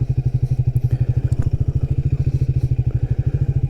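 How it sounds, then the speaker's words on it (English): Royal Enfield 350 single-cylinder motorcycle engine pulling away in first gear, a steady, even thumping exhaust pulse close up and loud throughout, with no voices. "Listen to that lovely engine note."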